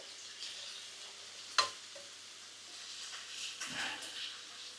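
Frozen lamb frying and browning in a pan gives a quiet, steady sizzle. A sharp clink from the pan or utensil sounds once, and soft stirring noises come and go.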